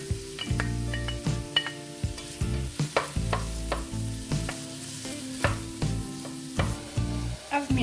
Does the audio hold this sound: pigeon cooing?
no